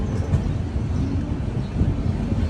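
The Vivek Express running along the rails, heard from inside a carriage as a loud, steady low rumble with rhythmic rattling and no talk.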